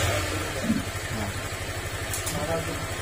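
Honda Click 125 scooter engine idling in a workshop, a steady low mechanical putter with a faint rhythmic pulse, close by, with a person talking over it.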